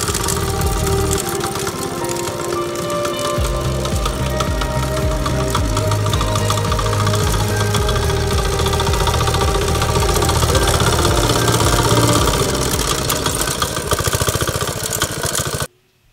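A motoculteur walking tractor engine built in Burkina Faso runs loudly and steadily nearby, a dense rattling, knocking drone with shifting tones that stops abruptly at the end.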